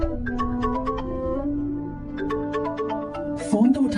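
A mobile phone ringtone plays a steady repeating melodic pattern at moderate loudness for several seconds, with a brief louder burst near the end.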